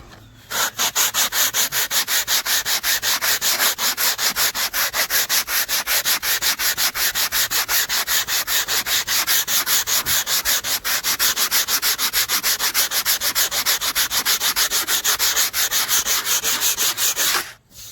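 Hand sanding scrapes across a stained wooden deck in fast, even back-and-forth strokes, close and loud, continuing steadily with no pauses until it stops at the end.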